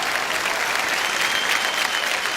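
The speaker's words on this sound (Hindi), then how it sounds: "तो जियो के लिए एक बार जोरदार तालियां हो जाएं।" A live audience at a Jio Filmfare awards show bursts into loud, steady applause, a dense wash of clapping that holds evenly for a couple of seconds.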